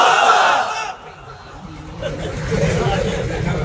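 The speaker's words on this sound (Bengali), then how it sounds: "শুরুতে বিবাহিতরা তাকবীর পড়বেন, আমি পড়বো লিল্লাহি তাকবীর, আপনারা আল্লাহু আকবার" A large crowd of men at an Islamic religious lecture shouts the takbir response in unison. A loud collective roar at the start dips to a murmur, then swells again.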